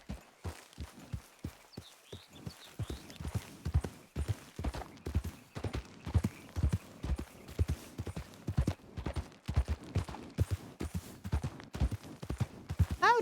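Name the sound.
horse walking, clip-clop hooves, in a video game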